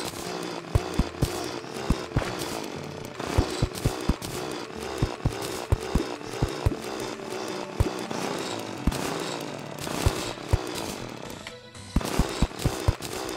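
A drill runs in the video game Terraria, a continuous harsh buzzing grind broken by sharp, repeated impact clicks and crunches at an irregular rhythm, staying loud throughout.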